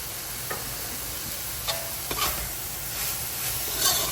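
Thinly sliced cabbage and broccoli frying in a hot pan for Guyanese beef chowmein, a constant loud hiss with a few quick utensil scrapes and taps as the vegetables are stirred, close up with no voices.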